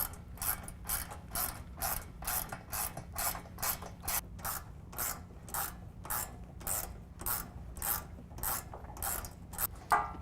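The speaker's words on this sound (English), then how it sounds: "We'll use a 13mm wrench or ratchet and tighten that down." A 13mm ratchet tightens bolts on a step bracket for a Ford Super Duty truck, giving a close, rapid series of sharp clicking bursts in a steady back-and-forth rhythm.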